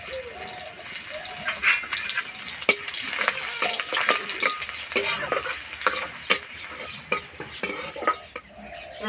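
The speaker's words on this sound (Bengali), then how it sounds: "তেলে দেবো থেতো করা রসুন" Crushed garlic sizzles in hot oil in a home kitchen pan, a steady crackling fry broken by repeated sharp clinks and scrapes of a spatula stirring, fairly close and without talk.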